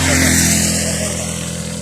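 Bikes at Bilot Shareef give off a loud, close engine drone, a steady rumbling hum that fades slightly over a brief moment, with no voices.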